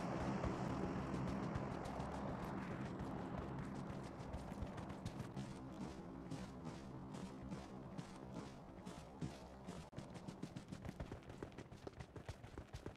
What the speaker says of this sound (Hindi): सिर्फ घोड़े की आवाज़ में फुल स्पीड से हम जा रहे थे।